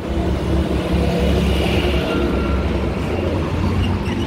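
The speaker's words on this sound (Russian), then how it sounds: "столько машин, еще грузовых. Все так шумит." Loud, continuous rumble of passing road traffic in Cortina d'Ampezzo in the Dolomites, heavy trucks and cars blending into a steady roar with no clear pauses.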